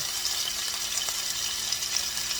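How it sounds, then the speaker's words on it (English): Loud, constant sizzle of chicken searing in a hot pan on the stove, close and unbroken with faint crackles throughout. "You wanna hear that sear."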